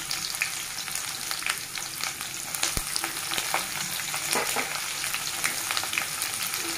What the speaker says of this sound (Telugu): ఇప్పుడు మనం ఒక మీడియం సైజ్ ఆనియన్ కట్ చేసి పెట్టుకున్న తర్వాత యాడ్ చేసుకుందాం.